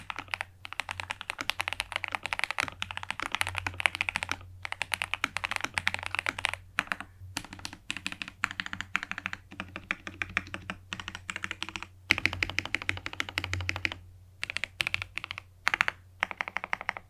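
Rapid typing on a modded Epomaker EP84 mechanical keyboard, deep, muted clacks in quick irregular bursts, close up and alone, with a few short pauses.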